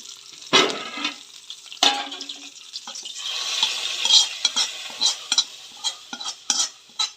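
Curry leaves crackle and sizzle as they drop into hot coconut oil poured over a boiled chicken curry, with a loud burst at the start followed by steady frying hiss and sharp spatters, close and alone.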